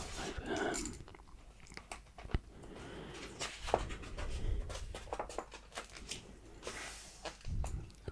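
A history book being handled and shuffled into position, with papery rustles, soft bumps and a few sharp page and cover taps, close and fairly quiet, no speech.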